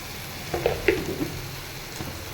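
Onions and green chillies frying in oil in a pan, a soft steady sizzle with a few brief stirring scrapes near the middle, close but fairly quiet, no talking.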